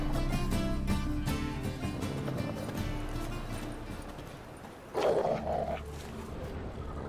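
Dogs bark amid a busy mix of rumbling ambience and clopping movement in The Witcher 3, the barks moderately distant and partly buried, with a brief louder burst of noise about two-thirds through.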